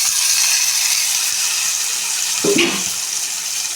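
Chopped tomatoes go into hot oil in a pan for tomato roast, with a steady broad sizzle throughout and a brief wet splash as they land partway through.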